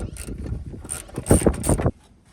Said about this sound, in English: We take off the nuts and then just undo that plug.